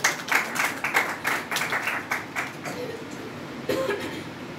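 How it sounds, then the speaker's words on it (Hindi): Audience clapping and cheering for a girl at a Sunday religious gathering, a burst of applause from a crowd that is strong at first, then thins out and swells again briefly near the end. "बेटी के लिए जोरदार तालियां बजाएं जिसे याद है।"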